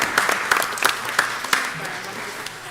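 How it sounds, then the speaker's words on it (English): Applause at a township board of education meeting, with scattered distinct hand claps standing out over a softer background of clapping in the room. "So definitely give yourselves another round of applause"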